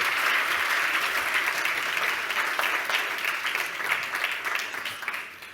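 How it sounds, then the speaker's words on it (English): A conference audience in Barcelona applauds a plenary speaker, steady loud clapping that holds for several seconds and then slowly tapers off. "Round of applause for Nassim, please."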